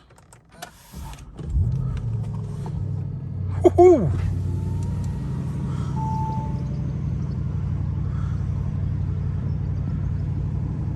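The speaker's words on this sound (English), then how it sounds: "You guys can hear that beautiful engine." A 2022 Bentley Continental GT V8 fires up with a sharp starter whine and a brief rev flare, then settles into a steady, low, rumbling idle close by, with a short excited exclamation from inside the car.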